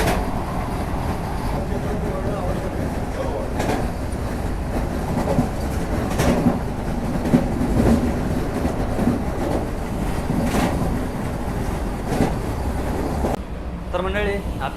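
Vande Bharat Express on the Mumbai to Goa route, running steadily on its tracks with a continuous low rumble and faint clickety-clack, heard from inside the coach while people talk over it.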